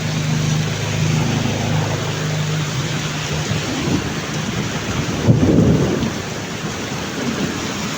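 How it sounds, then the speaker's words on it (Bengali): Steady heavy rain pours down during a Malaysian thunderstorm, with a low rumble of thunder swelling loudest around the middle and the downpour continuing throughout. "প্রতিদিন বৃষ্টি হয় মালয়েশিয়া, প্রতিদিন বৃষ্টি হয়।"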